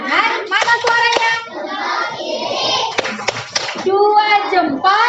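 Children in an elementary school class clap their hands in rhythmic bursts during a thumbs-clapping game, with sharp claps mixed among lively young voices and a teacher talking throughout.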